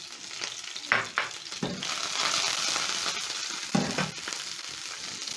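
Coriander sizzling and frying in hot oil in a pan, a steady close crackle with a few louder bursts as it is stirred.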